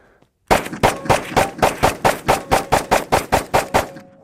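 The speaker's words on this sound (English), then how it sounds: "just looking for fast rounds out of the gun and see if there's any issues" A Sig X-Ten 10mm pistol fires about fifteen shots in quick, even succession, each a loud, sharp crack close by, with a brief pause before the first shot and no talking.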